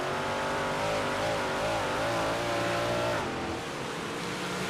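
A dirt track race car, number 25, on a dirt oval at Charlotte, heard as a loud engine wail that wavers in pitch, then drops as the driver lifts off the throttle, with the car still close by.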